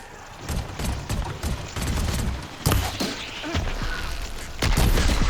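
Weapons fire in the video game Horizon Forbidden West, a dense loud barrage of shots and booms with sharp cracks breaking through a rumbling battle din.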